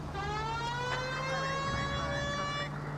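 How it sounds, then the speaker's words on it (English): A police car siren from the L.A. Noire video game wails in a steady rising-and-falling tone, loud and close, sounding alone for about three seconds before cutting off. "You guys want to hear my siren?"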